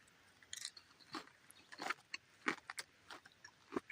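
Someone eats hot, buttery, salty popcorn at a wilderness campsite, with a series of crisp crunching bites close to the mic, irregularly spaced over a quiet background.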